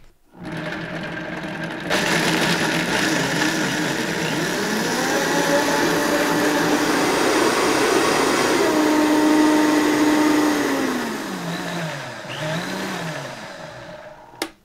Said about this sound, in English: Put it in your blender and mix it up.